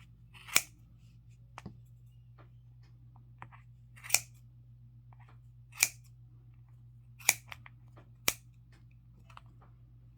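Sharp scissors snip through crochet yarn for handmade slippers, about six crisp, close cuts at uneven intervals over a low steady hum, with no talking.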